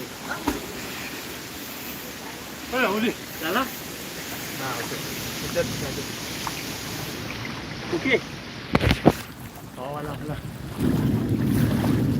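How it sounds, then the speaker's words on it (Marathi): Strong wind roars and buffets the microphone in steady gusts near jackfruit trees by a river, with a few scattered voices talking faintly in the background. "वारा खतरनाक सुटला आहे"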